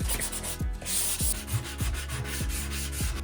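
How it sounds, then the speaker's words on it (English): Rhythmic back-and-forth scraping of 150-grit sandpaper rubbed by hand over wood, close up and steady, with regular strokes throughout. "I think I'm just using 150 grit sandpaper, and I'm just going through it all by hand."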